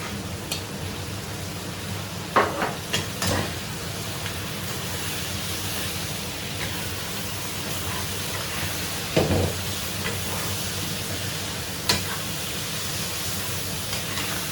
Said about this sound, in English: now add some fresh scallions and green chilies and continue stir frying